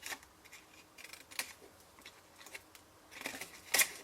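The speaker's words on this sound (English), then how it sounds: "all I'm doing is I'm going into these little squares here and just trimming them away a little bit" Small paper squares are trimmed with scissors, giving a series of crisp, close snips at an uneven pace over a quiet background, with one sharper cut near the end.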